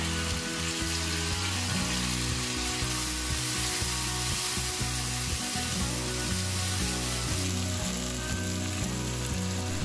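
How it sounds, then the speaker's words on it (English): Cashew nuts and tomatoes fry in hot oil with cumin seeds while a mattar paneer is cooked, giving a steady, dense sizzle and crackle that lasts throughout with no voices. "Add the cashew nuts and fry for 2 minutes, followed by the tomatoes."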